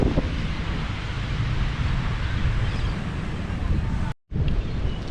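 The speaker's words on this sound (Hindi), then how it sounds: "ये पानी की आवाज़ से कानों का सुकून, खूबसूरत और ठंडी हवा से दिल का सुकून" Ocean surf and cool wind on an Australian beach make a steady, loud roar, with gusts buffeting the microphone and a brief dropout near the end.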